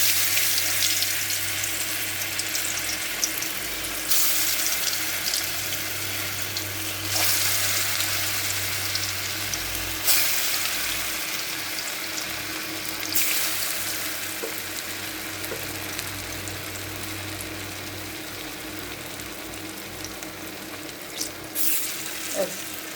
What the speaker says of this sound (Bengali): আমি এক এক করে এগুলো কোফতার মতো করে আমি কিন্তু এগুলো ভালো করে ভেজে তুলবো।